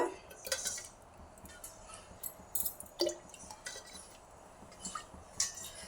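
A pan is set on a lit stove, with scattered light metallic clinks and taps of utensils, fairly quiet, a few sharper knocks among them and no talking.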